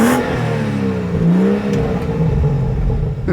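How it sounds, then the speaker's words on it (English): The engine of a BMW 435i M Sport revs up close. Its strong, tonal growth of engine noise rises and falls across a few seconds, with no talking. "Let's do a little rev time."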